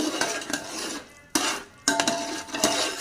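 A spoon stirs ghee into sugar syrup in a pot for sweet zarda rice, giving close, repeated scraping and clinking strokes against the metal with a couple of brief pauses.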